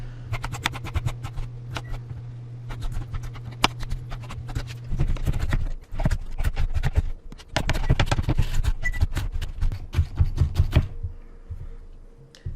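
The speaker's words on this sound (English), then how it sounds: "If you're using a potato, you need to chop it into really tiny pieces for your catalase solution." A knife chops a potato into tiny pieces on a board for a catalase enzyme lab solution: quick, close, repeated taps that come in dense bursts, with a low steady hum under the first part.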